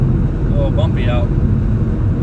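A car drives along bumpy roads in West Texas, giving a loud, low, rumbling road and engine drone with bumps throughout. A voice talks briefly over it.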